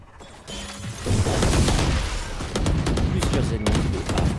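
Gunfire and impacts during a Valorant match, loud bursts of shots and crashes packed close together over a busy game mix, with a voice talking underneath.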